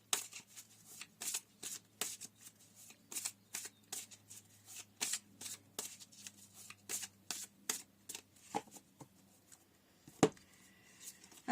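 A deck of tarot cards is shuffled close up on a table, a steady run of soft riffling bursts in quick rhythm, fairly quiet, with one sharper slap near the end.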